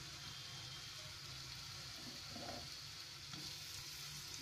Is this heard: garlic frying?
yes